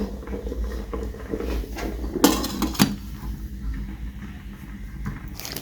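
A metal lid set onto a pot of rice cooking in a home kitchen, two sharp clanks close together against a low background rumble.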